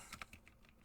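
A few soft, quick keystrokes on a computer keyboard, faint and close in a quiet room, lasting under a second.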